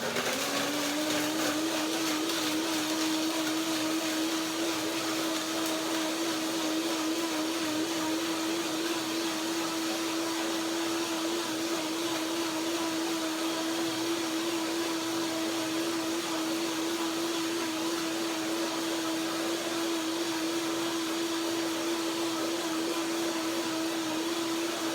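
A blender runs steadily, whirring vanilla goji cashew cream. It starts within the first second and holds one even motor pitch for the whole stretch, loud and without talk.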